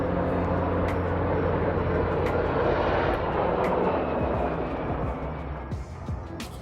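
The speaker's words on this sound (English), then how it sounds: "These fucking helicopters," Helicopters pass overhead, a loud, steady rotor-and-engine roar that dominates the scene, then gradually eases and thins toward the end as they move away.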